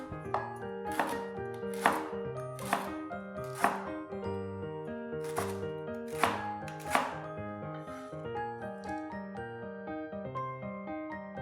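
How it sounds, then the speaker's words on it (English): A knife chops lemongrass into smaller pieces on a board in sharp, evenly spaced strikes, about eight in all, over soft background music with no talk. "Peel off the outer layer and cut it into smaller pieces."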